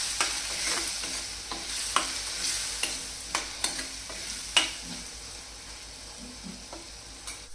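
Spices cook in a pan over a low flame with a soft, steady sizzle, broken by a run of irregular scraping and tapping stir strokes from a spoon, close by and with no talking.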